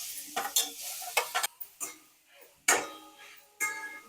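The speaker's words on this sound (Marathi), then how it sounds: "चांगला परतून घेऊ याला आपलं परतून झाला भोपळा" Grated bottle gourd being sautéed in a little hot ghee for a sweet halwa, with spatula stirs and scrapes against the pan over a soft sizzle, irregular close strokes separated by quieter gaps.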